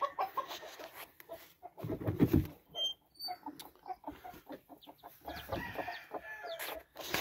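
McGinnis Sweater game chickens cluck and call close by on a spring farm around a broody hen with newly hatched chicks, the soft clucks coming in irregular bursts, one louder flurry near the middle, with no talking.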